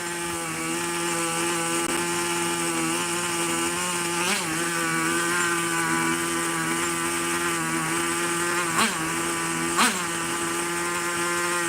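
A small engine drones steadily and close, its pitch wavering slightly as throttle and mixture are adjusted, with a few brief clicks or knocks near the end.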